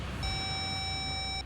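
A single steady electronic tone marks a phone call being cut off, holding at an even level for just over a second before stopping abruptly over faint background hiss.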